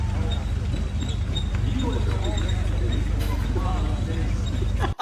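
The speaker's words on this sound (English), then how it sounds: "That sound is a genuine recording of a squeaky tank." A squeaky tank rolls down a road during a military parade: a steady low engine rumble with scattered squeaks and clanks of the tracks, fairly close, over a murmur of crowd noise, ending abruptly.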